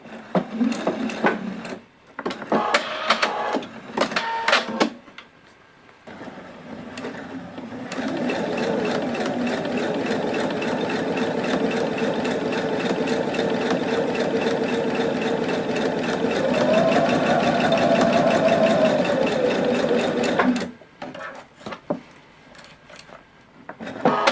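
Sewing machine hemming a fabric face mask, a steady close, loud mechanical whirr running unbroken for about thirteen seconds, with handling knocks and rustles before and after.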